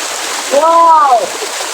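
The Mayabi waterfall at Jaflong, running with less water than usual, gives a steady, even rushing wash throughout, while a person briefly speaks over it.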